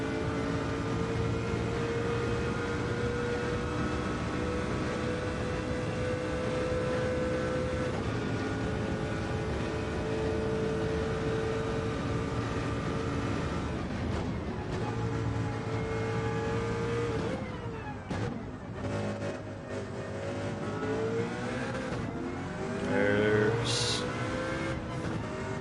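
Race car engines in Gran Turismo 7 drone and rev continuously with sustained high-pitched whine, shifting pitch through gear changes and accelerations, with occasional tire squeal near the end.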